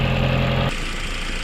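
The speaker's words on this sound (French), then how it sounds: "On dirait vraiment le même moteur que j'avais dans la TT." Car engine idling close by with a steady low hum and harmonic drone, which cuts off abruptly partway through, leaving quieter rumbling noise with no talking.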